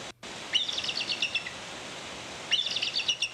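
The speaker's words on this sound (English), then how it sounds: "It's a cool bald eagle noise" Two bursts of a high, rapid, stuttering bald eagle call, each a string of sharp piercing notes, with a short quiet gap between them.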